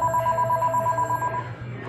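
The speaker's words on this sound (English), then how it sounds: "I hear a phone." An old-style telephone bell rings loudly in rapid repeated bursts inside a restaurant, continuing for over a second before stopping abruptly, with no voices heard.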